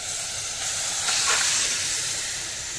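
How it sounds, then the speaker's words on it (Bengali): Marinated chicken pouring into a hot wok for dhaniya chicken, giving a steady broadband sizzling hiss that swells briefly near the middle and carries on evenly throughout, with no talking. "কড়ার মধ্যে জাস্ট ঢেলে দেবো।"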